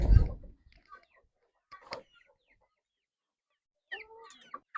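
Native country chicks and hens on a small farm give a few soft, scattered clucks and chirps, brief and fairly close, separated by quiet gaps.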